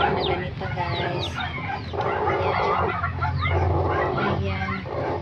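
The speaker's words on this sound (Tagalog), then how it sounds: "kung meron kayong manok na ganito" Chickens cluck steadily with a brief crow-like call near the start, close and fairly loud over a busy farmyard background.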